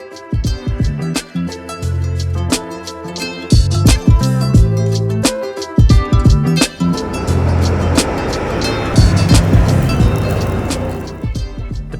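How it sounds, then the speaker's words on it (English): A 2014 Audi RS 7 Sportback 4.0 TFSI quattro accelerating, its exhaust popping and spluttering in loud, sharp crackles over a strong engine roar that rises into a harsher rush toward the end. "As we accelerate, you can just hear it popping and spluttering"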